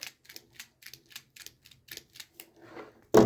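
Crimping tool clamping an RJ45 push-through connector onto Cat6 external Ethernet cable: a run of rapid, evenly spaced clicks from the ratcheting handle, ending in a louder closing snap, close and clear with no talk.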